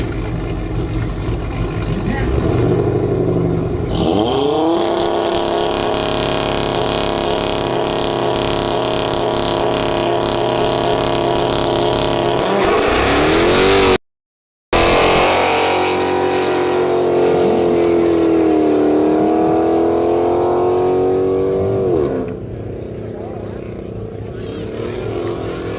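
No-prep drag race cars at the Steel City event roar and rev loudly, engines rising in pitch as they launch and tear down the track, with a brief dropout midway and talk mixed in.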